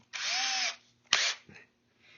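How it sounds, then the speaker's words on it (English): A power drill spinning a screw whirs for about half a second, stops, then gives a second shorter burst; close and loud, with no talking. "I put it in my drill"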